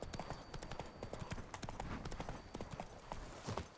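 Hooves of the horse Roach clip-clop in a quick, even trotting rhythm on a road in The Witcher 3, soft and steady with no other sound.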